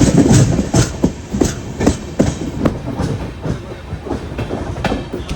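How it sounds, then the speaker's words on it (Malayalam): The Netravati Express rolling into Ratnagiri station on the Konkan Railway, loud rhythmic clickety-clack of wheels over rail joints at a slowing pace, heard close from aboard the train. "നമ്മുടെ നേത്രാവതി എക്സ്പ്രസ് അങ്ങനെ കൃത്യം 1 മണിക്കൂർ ലേറ്റായിട്ട് ഇവിടെ രത്നഗിരി എത്തിക്കൊണ്ടിരിക്കുകയാണ്"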